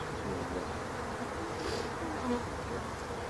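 A steady, dense buzz of many honey bees hovering close by around a hive, a continuous drone with no pauses and no voices.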